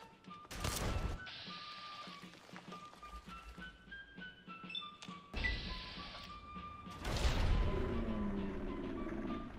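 Grenades go off in a Bethesda video game demo, with several loud, sharp blasts breaking over quieter in-game noise, one near the start and another heavier burst later that trails into rumbling.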